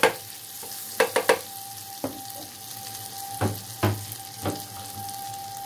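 Butter melting in a hot frying pan, with a low steady sizzle running throughout and several sharp clinks and scrapes of a utensil against the pan, no voices.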